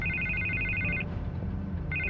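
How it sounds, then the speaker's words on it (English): A telephone rings in repeated electronic trills, one long burst, then a pause, then another begins, over a low rumbling background. "I can't get the phone to stop ringing."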